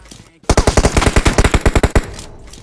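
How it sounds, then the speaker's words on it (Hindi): An M4 rifle fires in PUBG Mobile: a loud, rapid burst of about a dozen sharp shots in quick succession, followed by a short pause and a fainter echo of the fire. "भाई मुझ पे इन्होंने शॉट दिए अपने M4 के"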